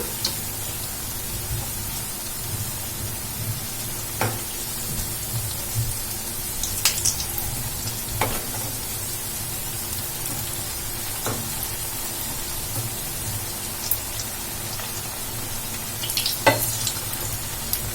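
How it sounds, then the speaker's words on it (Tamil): An okra snack fries in oil with a soft, steady bubbling hiss, a few scattered pops and light clicks of a utensil breaking through at intervals; the sizzle stays fairly quiet and there is no talking. "ஆயிலில் போட்டு நல்லா ஃப்ரை பண்ணி எடுத்துக்கலாம்"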